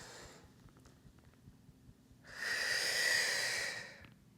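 During a Pilates workout, a long, audible inhale draws in close to the microphone, a soft breathy rush that swells and fades over about two seconds after a quiet start.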